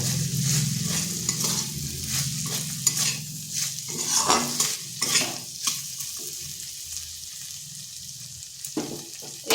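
Onions and potatoes fry in a little oil for a spinach dish, with a steady close sizzle and repeated scraping strokes of a spatula against the pan, and no talking.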